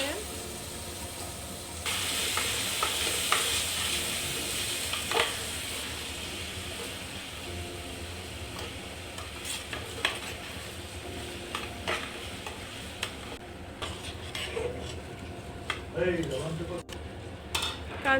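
Meat fries with cloves, cardamom and bay leaf while being stirred in a pot, giving a continuous sizzle with clattering scrapes throughout and faint voices at times.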